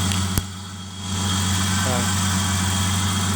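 A car's engine idles with a steady mid-pitched hum and fine vibration after sitting unused for about eight months, a sharp click near the start, and someone talking briefly over it.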